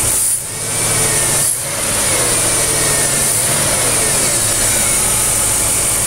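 A 1992 Cadillac DeVille 4.9 V8 with a misfire runs loud and close, with two quick throttle blips early on before it settles into a steady, slightly uneven idle.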